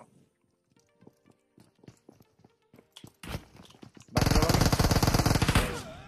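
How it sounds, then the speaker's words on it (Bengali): PUBG Mobile gameplay with a run of sparse thumping footsteps and clicks, then a loud burst of blasts and sustained rapid gunfire, all close and increasingly intense. "দুইটা গ্রেনেড দিছি"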